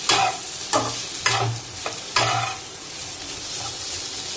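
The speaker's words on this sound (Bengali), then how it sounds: "ভালো করে নেড়ে নেব।" A spoon stirs Maggi noodles frying in a pan with salt, turmeric, chilli powder and cumin powder. A continuous sizzle runs under several distinct scraping strokes against the pan, close up, with no talking.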